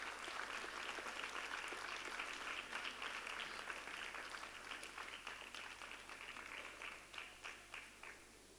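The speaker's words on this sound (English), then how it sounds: "please give a round of applause to Vidushi Madhura" An audience at a Bharatanatyam arangetram applauds for the dance teacher, steady dense clapping that gradually thins and fades toward the end, leaving a few scattered claps over a low hum.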